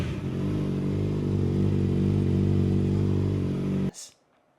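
Yamaha R6 599cc inline-four motorcycle engine held at a high, strained rev, a loud steady buzzing whine that cuts off abruptly near the end, leaving near silence.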